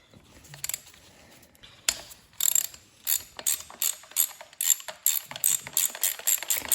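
A hand ratchet loosening 12 mm bolts on a Nissan RB20 engine in a workshop, first a few isolated clicks, then rapid bursts of sharp ratcheting, close and crisp, no talk.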